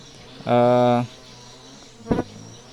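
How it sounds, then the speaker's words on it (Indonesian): A close, loud buzz from stingless trigona bees during a colony transfer lasts about half a second, then a shorter buzzy burst follows after a pause, against a quiet background. "pemindahan koloni lebah trigona itu"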